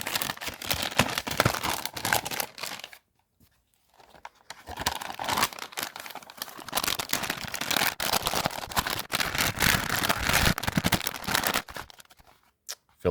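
A US MRE meal pouch (Menu 5, chicken chunks) crinkles and rustles steadily up close as food goes into it, with one brief silent pause partway through.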